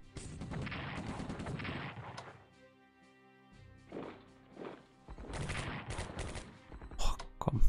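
Heavy bursts of gunfire and artillery blasts from a tank battle in the WW2 strategy game Strategic Command, loud rolling volleys that stop briefly for a quieter gap and then return, with a few sharp impacts near the end.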